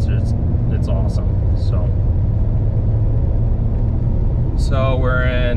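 Inside a 2010 BMW 335d diesel fitted with a swapped G30 8HP75 eight-speed transmission, cruising in top gear near 1500 RPM at about 60 mph, a steady low engine and road drone runs throughout, with brief voice sounds.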